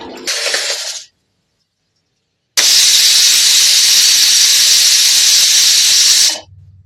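A pressure cooker whistle vents steam while millet pongal cooks, a loud, close, continuous hiss lasting around four seconds after a brief earlier burst, then cutting off sharply.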